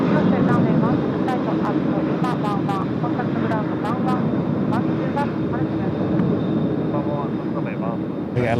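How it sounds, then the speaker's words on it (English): At Tokyo Haneda, an All Nippon Airways Boeing 767 rolls for takeoff, its steady broadband engine roar running throughout beneath someone talking close by. "767 now rolling all Nippon"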